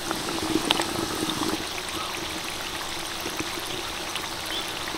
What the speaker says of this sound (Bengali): তবে তার আগে বাকি যে মিনি সিঙ্গারাগুলো রয়েছে সেগুলোকে ভেজে নিই